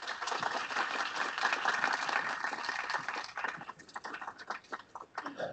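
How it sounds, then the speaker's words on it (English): A conference audience applauds after a panel talk on AI network infrastructure: a faint, dense burst of clapping that thins out into scattered, separate claps toward the end. "Round of applause for Adam."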